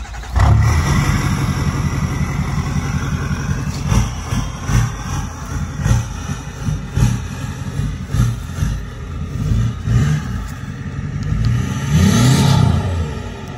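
A car engine idling loudly with a rough, pulsing rumble, then briefly revved higher near the end.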